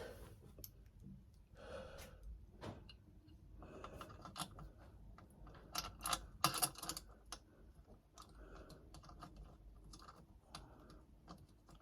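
Quiet, close mechanical clicks and small metallic rattles of tools working as a seat is screwed back onto a Windgoo electric bike, in irregular bursts with a louder cluster near the middle.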